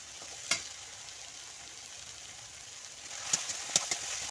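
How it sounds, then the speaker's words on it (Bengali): Spice masala with red chilli powder fries steadily in a pan for a pangas fish dish, a soft continuous sizzle with a few sharp stirring clicks and scrapes near the start and end. "বন্ধুরা আমার মশলাটা ভালো করে কষানো হয়ে গেছে"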